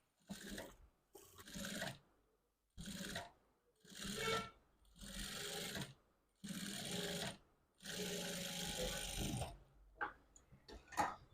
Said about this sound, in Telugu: ఇదే కుట్టు పైన కుట్టు పడేలాగా ఇంకో కుట్టు అనేది వేసేసుకుందాం